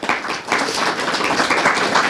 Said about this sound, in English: Give them a big round of applause for pulling this together today.